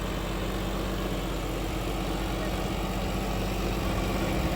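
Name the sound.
John Deere tractor engine running with rotavator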